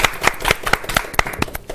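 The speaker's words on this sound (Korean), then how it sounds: "박수로 네, 맞이해볼까요? 박수로." A studio audience on a Korean TV talk show about university admissions consulting claps briefly in welcome, with a short burst of close, sharp individual claps.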